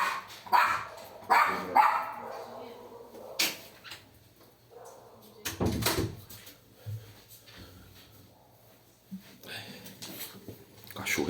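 A dog barking indoors, with a few sharp, scattered barks and yips at irregular intervals, some close and loud, mixed with someone talking and small handling knocks.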